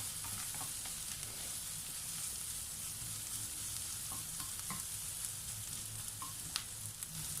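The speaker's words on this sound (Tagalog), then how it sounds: "itutuloy po natin ang ating paggisa hanggang sa ito ay mag-brown ng konti" Garlic sautéing in a pan for beef pares gives a steady, close sizzle with occasional stirring taps and scrapes, with no talking.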